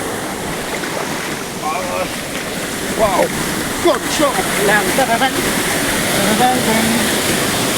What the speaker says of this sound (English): Wow, guys, waterfall.